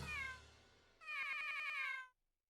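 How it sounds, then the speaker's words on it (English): A cat meow sample plays on the turntable scratch in the Beatmania IIDX rhythm game: two clear, bright meows, the second longer, then silence. "There's your cat sound. It's on the scratch."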